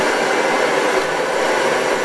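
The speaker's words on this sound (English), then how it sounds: "take your blow dryer and just blow dry" A handheld blow dryer runs steadily and close by, blowing a constant airy roar through the whole stretch while someone blow-dries oiled hair at the roots.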